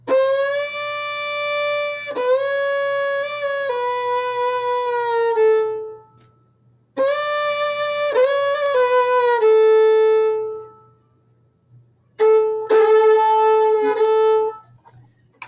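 Slow bowed fiddle notes sliding downward in a measure of a tune, played in three phrases with short pauses between, clear and close with no talking.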